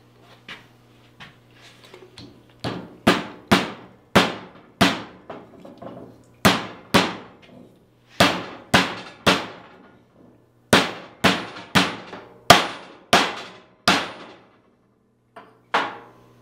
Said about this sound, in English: he's going to tap and install the spindle bearing down in there.